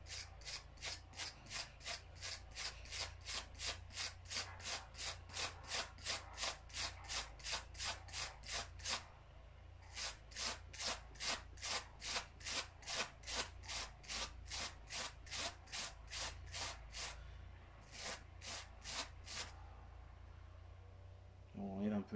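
Wire brush scrubbing petrol-cleaned engine parts to remove rust and carbon buildup, fast rhythmic scratchy strokes close up, repeating in long regular bursts with a brief pause midway.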